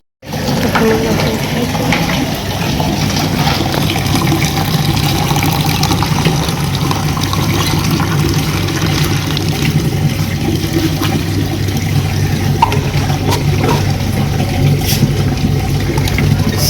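Filtered water runs steadily from a tap into containers at a public filling point, a constant loud gushing with background hum and no pauses throughout.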